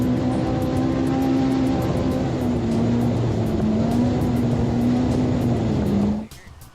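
An off-road race vehicle in the 2024 NORRA Mexican 1000 rally drives down a riverbed. Its engine holds a loud, sustained drone with slight pitch shifts, then cuts away abruptly near the end.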